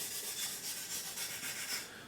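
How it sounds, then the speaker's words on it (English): Sandpaper rubs back and forth around the nose of a small wooden catapult glider model, a close, soft, hissing scratch in quick repeated strokes with no talking. "we'll finish up a little bit of sanding, rounding off the area around the nose here"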